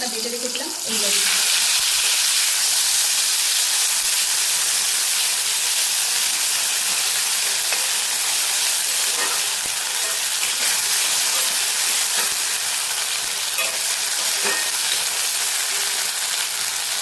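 Spice paste and tomatoes sizzle in a hot pan for a Bengali village-style fish curry with bitter gourd and potatoes, a steady loud broadband hiss after a brief initial clatter, continuous with faint clinks.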